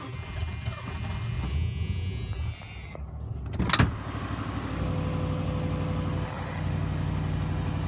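Ford LTD engine running with the accelerator held down, a steady low rumble continuing throughout, with a brief sharp clunk partway through and no voices.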